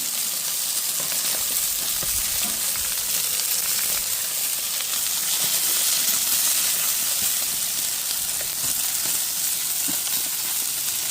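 Thick chicken pieces basted with oil grill slowly, giving off a steady, close hiss and sizzle with faint crackles throughout, no voices over it.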